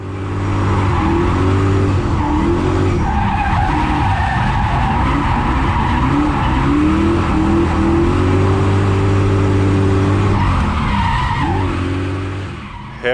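A drift car skids through a hillclimb track at morning practice, its engine revving in rising and falling sweeps as tires squeal continuously, loud and close for several seconds.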